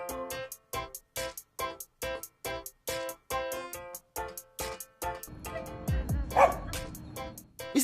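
A dog barks in a steady run of about a dozen evenly spaced, close, loud yaps, and the barking gives way to rushing wind-like noise near the end.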